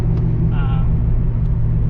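A 1995 Mustang Cobra engine rumbles loud and deep at light throttle, a steady low drone heard from inside the car with a brief higher whine, while someone talks over it.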